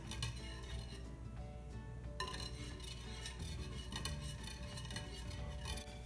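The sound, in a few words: whisk stirring melted caramel sauce in a pan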